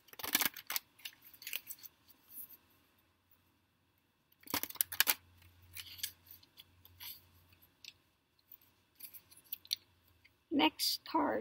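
Tarot cards shuffled at home in the morning, giving short bursts of crisp riffling and snapping, one near the start, a longer one midway and another at the end, with quiet gaps and a low hum between.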